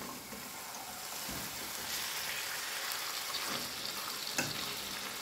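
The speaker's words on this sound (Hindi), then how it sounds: "गोश्त को जो है हम थोड़ा सा फ्राई कर लेंगे मसाले के साथ" Mutton frying with spices over a high flame in a pan, a steady broadband sizzle running throughout at moderate level, with a few soft stirring scrapes and a brief sharper clink near the end.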